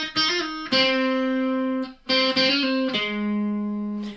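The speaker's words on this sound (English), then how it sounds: "However, there is a guitar part which sounds like this." An electric guitar part from a song: distorted, sustained notes with hammer-ons and pull-offs, played alone and close in three ringing phrases with short gaps between them.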